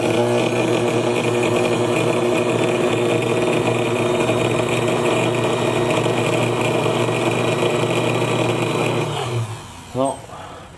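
Motor of a New Home Model K sewing machine running steadily with a rough, dirty whir and strong harmonic hum, then stopping near the end with a brief spin-down.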